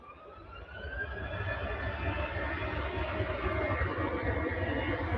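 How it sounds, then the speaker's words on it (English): Jet airliner taking off from the runway at Manchester Airport, a steady, loud engine roar that builds slightly and holds throughout, with no talk over it. "these jets, you can hear them for quite a way away"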